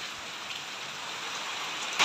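Heavy rain pouring outdoors in a steady, dense hiss on surfaces, constant throughout with a brief louder burst at the very end and no voices.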